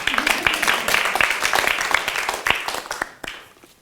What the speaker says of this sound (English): a warm applause to you